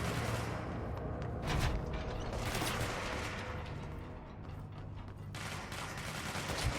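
Bursts of rapid gunfire crackle in the video game Control, dense and fairly faint, with several rattling volleys overlapping one another and no talk.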